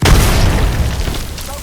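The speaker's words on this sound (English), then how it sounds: "Throwing. Grenade." A grenade detonates in Apex Legends gameplay, a loud booming blast that hits at once and rolls on as a dense rumble across the short moment, with no talk over it.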